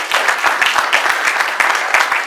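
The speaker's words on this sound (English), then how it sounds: "give a round of applause for our last speaker" Close, loud applause at a Nigerian conference session for its final speaker, with individual hand claps standing out in a quick, slightly uneven rhythm over a thinner crowd of clapping.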